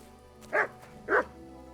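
Two loud, close dog barks evenly spaced about half a second apart, each one short and sharp, from the medieval role-playing video game Kingdom Come Deliverance 2, over quiet background ambience.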